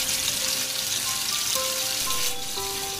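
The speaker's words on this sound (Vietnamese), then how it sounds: "Đợi dầu nóng lên thì các bạn cho hết số cá đã ướp vào trong chảo để chiên nhé." Marinated scad pieces fry in hot oil in a pan, giving a steady, dense sizzle and crackle with faint tonal pings, continuous and close, with no voices.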